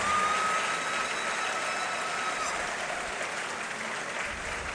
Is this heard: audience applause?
yes